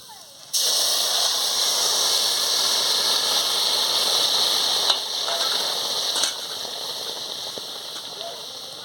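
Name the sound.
dal poured into hot pot, sizzling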